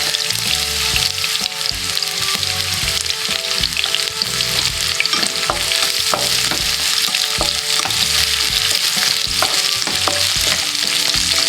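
Garlic and spices sautéing in a pan for pininyahang manok, a loud continuous sizzle up close, punctuated by sharp ticks and scrapes from stirring and steady throughout.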